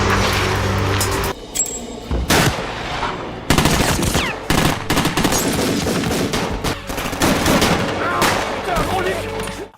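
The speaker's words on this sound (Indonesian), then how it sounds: "Aksi saling tembak terjadi dan tak sedikit polisi yang menjadi korban dari kecerobohan Klein" Rapid gunfire from a police shootout in the French crime film 36 Quai des Orfèvres, bursts of shots cracking in irregular volleys over a dense, loud action soundtrack with brief gaps between the strings of fire.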